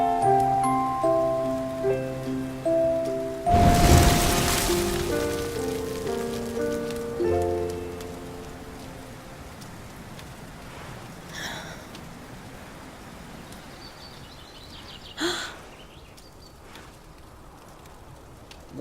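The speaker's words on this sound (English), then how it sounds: "Looks like the rain's dying down." Rain falling in the video game Dragon Quest XI, a steady soft patter that starts over a musical score and continues alone to the end, with one louder burst near the middle.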